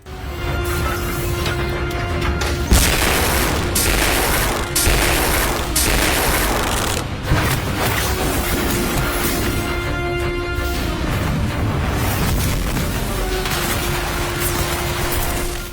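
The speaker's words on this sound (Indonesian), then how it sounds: "Baby Magnum dengan acap menembakkan meriamnya." Heavy anime cannon fire from a mecha-style artillery unit: a dense, loud barrage of booming blasts with sharp impacts at intervals, sustained for the whole stretch without speech.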